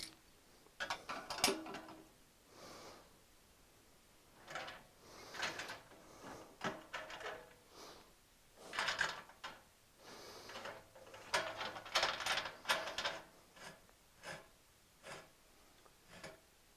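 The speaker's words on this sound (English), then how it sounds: "Then add my 4-inch tri-clamp." A 4-inch stainless tri-clamp is fitted and tightened on a flute still column with bubble plates, giving scattered close metallic clinks, scrapes and clicks, fairly faint and irregular, with no talking.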